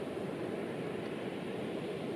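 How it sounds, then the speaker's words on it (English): Faint ocean surf rolls on as an even, breathy wash of noise, quiet and continuous with no voices. "You can hear the waves up ahead."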